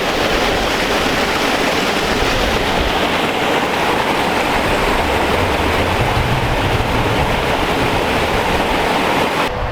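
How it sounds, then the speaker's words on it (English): Water on the River Vire rushes past in a loud, steady roar of broadband noise that stays unbroken and close throughout, with no voices. "There's a little bit of water coming through, as you can see."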